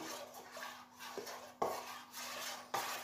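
Brown rum being stirred into crêpe batter in a bowl, with soft scraping and swishing from the utensil and a few sharp clinks against the bowl, close and fairly quiet.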